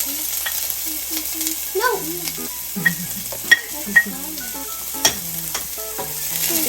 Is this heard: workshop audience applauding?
no